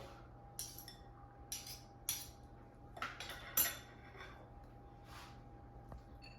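Avocado rice scooped into a serving bowl, giving a handful of light clinks and scrapes of utensil against dish at irregular intervals, close and quiet over a faint steady hum.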